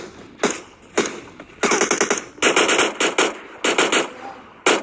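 Automatic rifle fire in the mobile battle royale game PUBG Mobile, loud rapid bursts of gunshots with short pauses between volleys, no talk over it.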